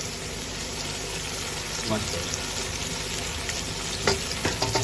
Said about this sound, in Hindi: हम इसमें चिकन डाल देंगे। इसी में इसको तल लेंगे हम बीच में